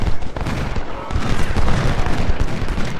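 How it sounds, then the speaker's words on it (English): Crackling gunfire is exchanged between dug-in troops in a Civil War video game battle, a dense, continuous fusillade of overlapping musket shots at mid distance. "Stockton's almost out of ammo, but he's holding his own against the defenders he's dug in. They're trading shots."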